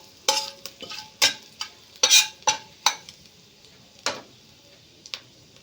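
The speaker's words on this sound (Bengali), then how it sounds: "এবারে এর মধ্যে দেব আধ ভাঙা ধনে দিয়ে এটাকে ভাজবো" Cumin, ajwain, asafoetida and half-crushed coriander seeds fry in hot oil, heard as a series of sharp spatula taps and scrapes against the pan over a light sizzle. It is close and fairly quiet, with no talk.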